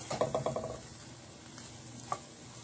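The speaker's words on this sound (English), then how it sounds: "I'm not really going to cook this long, just enough until the spinach wilts a little bit." Spinach and garlic cook in a pan with a soft sizzle, opened by a quick burst of scraping stirring strokes that fades into quieter frying with an occasional tap, close by and without talk.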